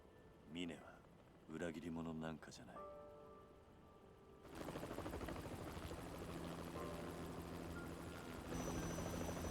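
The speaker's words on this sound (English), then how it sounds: "Why is Haruka in the helicopter" A helicopter in the Yakuza 3 video game drones steadily with a loud rotor wash in the second half, following brief tonal game sounds, with a voice talking over it.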